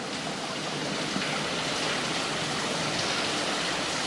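Fast-flowing water streaming through a tunnel, a constant, even hiss-like rush without breaks, moderately loud and close throughout.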